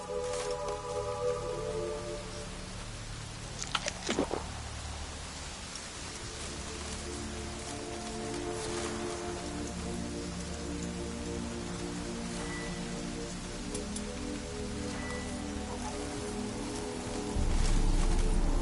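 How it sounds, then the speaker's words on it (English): Steady rain in The Witcher 3 video game pattering on a surface, continuous and even, with faint tonal music or ambient hum running underneath throughout. "Looks like rain."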